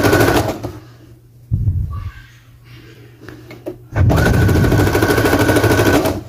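A sewing machine runs in two bursts of fast, loud rattling stitching while fabric is pulled and held to gather it, with a quieter pause between the runs and no talk.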